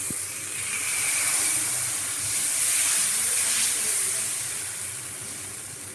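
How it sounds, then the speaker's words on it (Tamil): Sago (javvarisi) dosa batter hits a hot pan with a steady, hissing sizzle that swells and softly recedes, close up and continuous, with no voices. "இப்போ இது தோசையாக ஊற்ற போகிறோம்."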